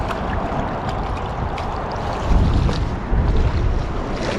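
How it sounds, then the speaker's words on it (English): Strong, steady wind roars and buffets the microphone beside a lake, with heavier gusts surging in the second half and a low rumble throughout. "it's so windy you won't be able to hear anything anyway"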